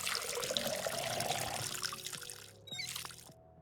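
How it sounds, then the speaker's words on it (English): Water runs from a sink tap into a watering can in the video game Schedule 1, a steady close pour that then stops, followed by a few short game interface tones. "fill up the watering can"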